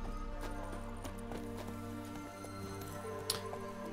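Roach, the horse in The Witcher 3, gallops in a steady run of hoofbeats over a soft musical bed. The clip-clop rhythm stays even and moderately close throughout.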